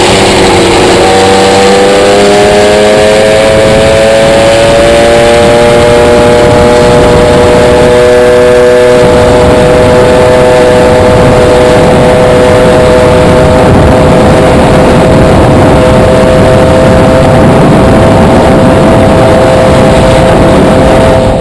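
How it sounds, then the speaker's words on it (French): A moped engine fitted with a Doppler S3R variator on an SPX/RCX, kick-started, runs loud and close, its pitch climbing through revs in long rising sweeps with no talking. "Démarrage au kick, la courroie accroche parfaitement."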